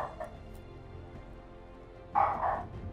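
A dog gives a couple of short barks near the end, moderately loud after a quiet stretch of faint background noise.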